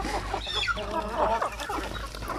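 Native free-range chickens, a Basilan and Zampen cross, clucking and calling steadily at close range over an outdoor farmyard hum.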